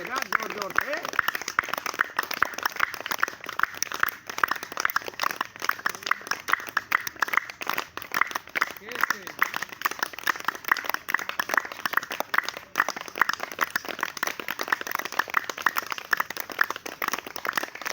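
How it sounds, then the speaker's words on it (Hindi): A crowd of lawyer colleagues claps loudly and continuously, a thick crackling wash of hand claps that lasts the whole stretch, with a voice talking over it. "वकील साथियों के ताली को आवाज जाना चाहिए ना जोर जोर से"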